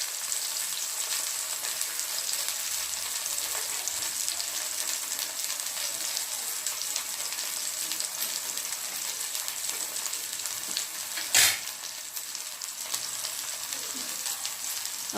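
A masala omelette with tomato frying in a pan, a steady, even sizzle throughout with one brief louder clatter near the end.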